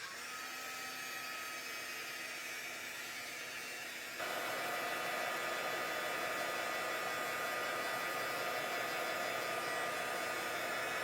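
A heat tool melts embossing powder on a stamped birthday card, blowing a steady close whirring hiss that steps up louder partway through and then holds, with no one speaking.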